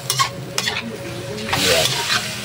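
Pork pinaksiw is stirred in a pan, with a close, loud sizzle and scraping stir strokes over a short stretch.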